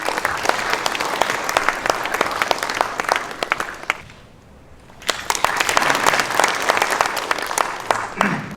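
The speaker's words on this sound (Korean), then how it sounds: "힘찬 박수 부탁드립니다." A crowd at a book launch event applauds loudly for an education superintendent, dense clapping that briefly thins to a near pause before surging back full and sustained.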